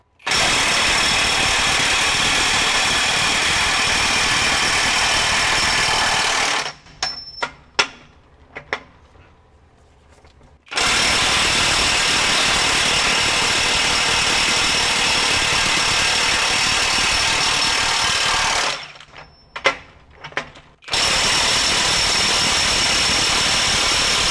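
A Hercules HCB85B 20V brushless ultra torque impact wrench, rated at 1,400 ft-lbs, hammers at a stuck fastener in two long, loud, continuous bursts of about ten seconds each, separated by quieter gaps with scattered clunks and handling noise.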